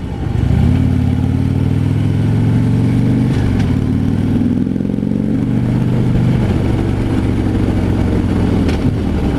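A 2015 Harley-Davidson FLHTP on a test ride, its stock-exhaust V-twin rumbling loud and steady as it pulls away and builds speed, with a slight dip midway.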